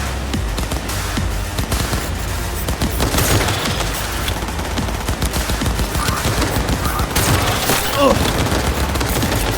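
Sustained, dense gunfire from a Cyberpunk 2077 firefight, rapid automatic bursts overlapping continuously at high loudness, with shouted voices faintly mixed in.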